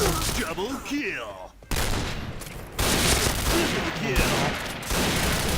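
Rapid gunfire fills a match of the shooter Point Blank on the Desert Camp map, dense rattling bursts of shots in several volleys, with someone talking over the shooting.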